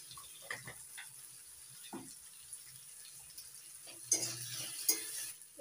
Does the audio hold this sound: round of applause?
no